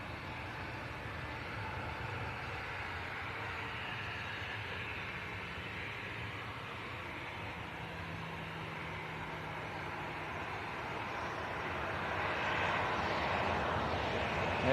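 A Jet2 passenger jet bound for Larnaca, Cyprus, roars steadily at Leeds Bradford Airport, a continuous broadband engine drone that swells louder toward the end, heard from a spotting position with no talk.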